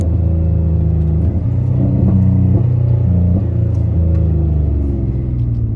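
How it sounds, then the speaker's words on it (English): A modded 2013 Nissan Maxima engine drones loudly from inside the car while downshifting, its pitch stepping and shifting steadily throughout with a constant low rumble and no talk. "I'm gonna try downshifting again."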